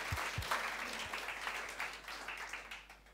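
A church congregation applauds, a burst of many hands clapping that starts strong and gradually thins out and fades over a few seconds.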